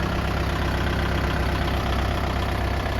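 Steady, unbroken idling drone of a Kubota MU4501 45 hp tractor with only 700 hours of running, heard alone and close with a constant even rumble.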